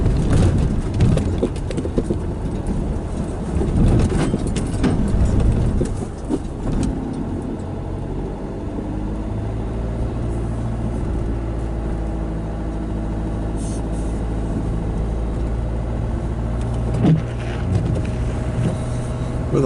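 A car drives in second gear over compressed snow, the engine droning loud and steady with crunching and rumbling from the tyres, rougher at first and then settling into an even hum.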